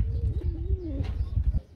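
A pair of classic-coloured pigeons coo close by in soft, low, warbling calls that rise and fall for a couple of seconds.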